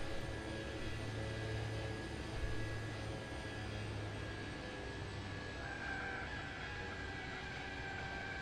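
Seaplane engines spooling into reverse thrust in the X-Plane flight simulator during a water landing near Honolulu, a steady, loud droning roar with a low hum and a whining tone that rises slightly, continuous with no talking.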